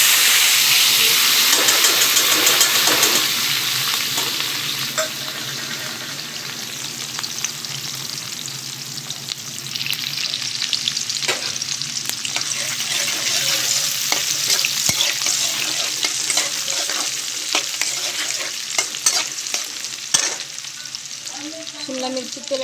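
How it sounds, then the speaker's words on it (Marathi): Finely chopped capsicum hits hot oil with cumin and gives a loud, continuous sizzle that settles into a steady hiss dotted with sharp crackles and pops. "तेल आपलं छान प्रकारे तापलं गेले. आता त्यानंतर आपण टाकूया ही बारीक कापलेली शिमला मिरची."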